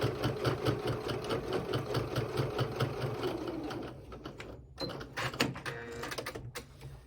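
A sewing machine stitches a bag seam in a fast, even rattle that halts partway through, then resumes in a shorter burst to backstitch, fairly close and clear.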